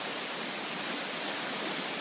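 A swollen, turbulent river rushes past in a loud, unbroken roar of churning water, with no voices.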